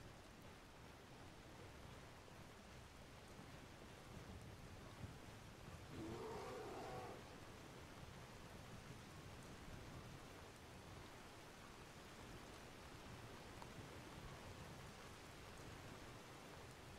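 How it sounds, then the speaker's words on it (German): Steady rainfall in the video game Skyrim hisses softly and evenly throughout, a faint, continuous wash of droplets with no voices over it. "jetzt regnet's"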